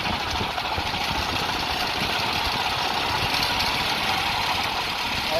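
A Honda GX390 generator engine fitted in a dune buggy runs steadily on its first test, giving a constant, unbroken mechanical drone with no talking.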